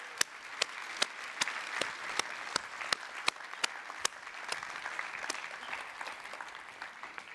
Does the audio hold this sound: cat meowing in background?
no